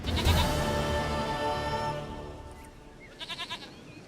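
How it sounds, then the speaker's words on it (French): Goat in the video game The Witcher III bleating: a loud, wavering nasal bleat up close, followed by a short trailing cry and a quick series of softer bleats, with no speech. "Une chèvre à moi."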